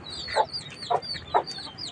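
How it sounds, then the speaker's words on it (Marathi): Three short clucks from hens with chicks, spaced evenly, over a faint background of other bird chirps outdoors. "इकडं कोंबड्याची पिल्लं. कोंबड्या आहेत."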